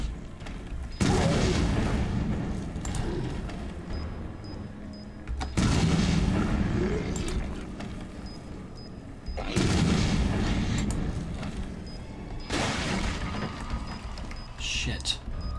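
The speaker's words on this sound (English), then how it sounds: "I need to use a bomb on that." Bomb blasts in Resident Evil 7, four heavy booming explosions spaced several seconds apart, each loud and close with a long rumbling decay, and a voice talking in between.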